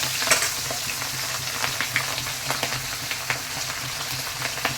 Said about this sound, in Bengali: এই মাছ ভাজতে গেলে তো হেলমেট পরে মাছ ভাজতে হবে তা নাহলে দেখো খটাং ফটাং করে করতেই থাকে